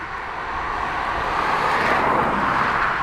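A Challenger business jet taxis toward parking at Dublin Airport, a steady broadband engine roar and whine that swells slightly as it continues, heard at moderate distance with no voices.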